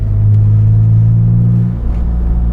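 A BMW E36 M3 fitted with Supersprint manifolds and exhaust gives off a loud, deep, steady rumble up close, holding a low drone with a slight dip near the end.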